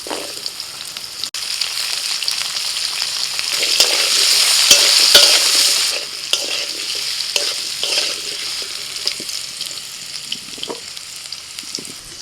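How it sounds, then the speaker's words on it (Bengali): Vegetables frying in a little oil in a kadai-style wok, a steady broadband sizzle that swells louder midway, with faint spatula scrapes and stirring clicks throughout and no talking. "এবার কড়াইতে অল্প তেল দিয়ে সবজিগুলো একটু ভেজে নেব।"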